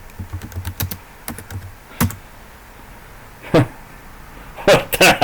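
Bursts of computer keyboard typing, clustered keystrokes in quick runs with pauses between, close and fairly loud, with a few quieter gaps and no talk over the keys.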